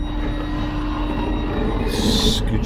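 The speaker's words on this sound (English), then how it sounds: "Okay, made it on the train." Steady rumble and rattle heard from inside a moving train, a constant low drone with a faint hum, plus a brief bright squeal near the end.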